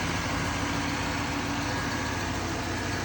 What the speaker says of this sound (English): Well, Jack, I got that engine in there and running super nice.